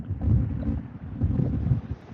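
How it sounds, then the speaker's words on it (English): Strong gusting wind buffets the microphone in low, rumbling surges beside a street while someone fishes, loud and continuous with no talking. "that wind is really kicking up"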